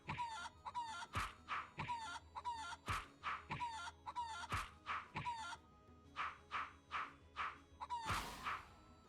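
Repeated clucking of a chicken in an RPG Maker video game, a string of sharp, evenly spaced cackles and squawks with a louder squawk near the end, with no voices.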